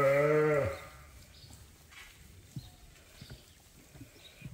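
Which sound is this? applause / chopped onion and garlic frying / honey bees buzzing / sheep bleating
sheep bleating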